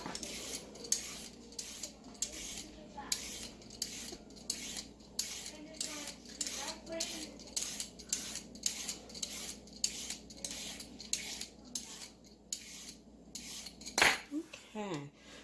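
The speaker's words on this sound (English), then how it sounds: "we are just going to start off by getting our carrots cut up and peeled" Carrots are peeled and cut on a kitchen board, giving a quick regular run of close, crisp scraping and chopping strokes, ending in a sharp clatter near the end.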